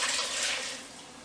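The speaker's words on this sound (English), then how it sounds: "I'm going to add about 2 cups of water" About two cups of water pour steadily into a cooking pot, a bright, close, continuous splashing rush that eases off slightly at the end, with no talking.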